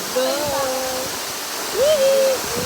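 Waterfall at Lanzones Falls in Siniloan, Laguna, a constant rushing roar of falling water heard close, with people's voices and a brief tonal call rising over it.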